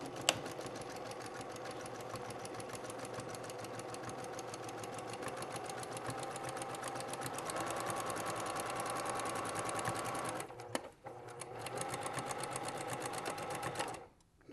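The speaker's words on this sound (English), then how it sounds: "I can just stitch right up and over." A sewing machine stitches steadily through a tool kit journal, its rapid even needle rhythm running continuously and fairly quietly, with a brief pause near the end before it resumes and stops.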